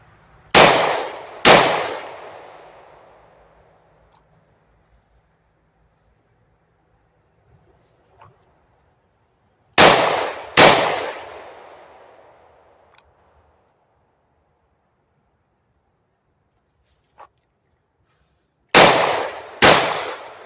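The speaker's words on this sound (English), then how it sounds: "except this time we'll do aimed fire with 2 hands" Two-handed aimed pistol fire at 5 yards, heard as three pairs of sharp, loud shots spaced about nine seconds apart, each with a ringing decay, with no talk.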